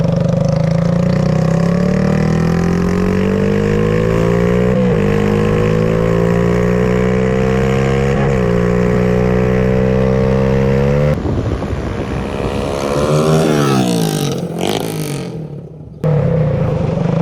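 A Honda-engined shifter kart runs loud and close, revving up repeatedly in rising gear pulls with brief drops between shifts, then easing off, spiking briefly and cutting out before it picks up again.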